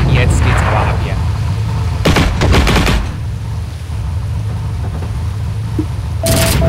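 Gunfire from Heroes & Generals comes in from the right: a burst of sharp shots around two to three seconds and another near the end, with loud battlefield rumble and voices throughout.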